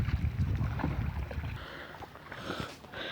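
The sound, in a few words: boat crossing flood water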